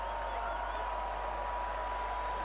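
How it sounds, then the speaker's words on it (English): A distant crowd cheers in The Witcher 3: Blood and Wine after a beast's defeat at a tournament in Toussaint, a continuous wash of applause and voices under a steady tonal hum. "And they are cheering."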